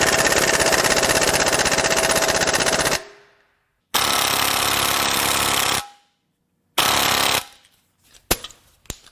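An air impact tool hammers at the crank pulley bolt on a Toyota 1FZ-FE Land Cruiser engine, loud and close, in three long rattling bursts separated by silences, followed by a few sharp clanks.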